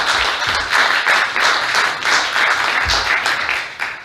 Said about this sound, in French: Si vous voulez bien applaudir nos intervenants et leurs projets.